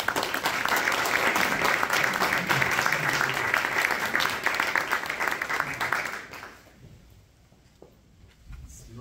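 An audience at a lecture gives warm, sustained applause to greet the speaker, a dense wash of clapping from many hands that fades out after about six seconds into quiet room sound.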